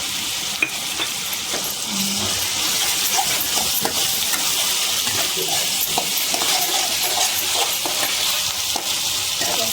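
Ginger-garlic paste sizzles steadily in hot oil in a pan, a dense, continuous frying hiss with occasional faint clinks and stirring scrapes throughout.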